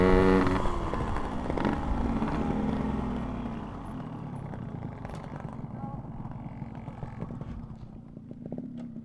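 Yamaha RX King two-stroke motorcycles riding in a group, a steady close engine drone that starts loud and eases off slightly, with no speech.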